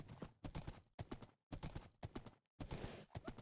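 A horse's hooves clip-clopping in a video game, four quick loud bursts of rhythmic clopping separated by brief silences.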